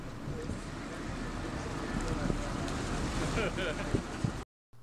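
Steady broadband rumble of a boat motoring over harbor water in Tasmania, with wind buffeting and splashing throughout before it cuts off abruptly near the end.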